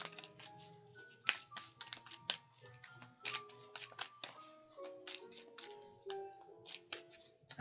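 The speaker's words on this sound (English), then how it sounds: "Y'all see me shuffling." Tarot cards being shuffled by hand close up, a quiet run of rapid papery flicks and taps with a few sharper snaps, continuous throughout with no talking.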